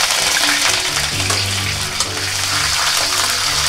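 Peanuts, dal, dried red chilies, ginger and curry leaves fry in hot oil for mango rice, giving a dense, continuous close sizzle and crackle with some stirring throughout.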